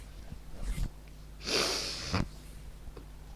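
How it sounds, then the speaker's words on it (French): A woman with a cold sniffs hard through her nose: a couple of short sniffs, then one long, loud inward snort lasting under a second, close to the mic, with no talking. "Désolée, je renifle encore."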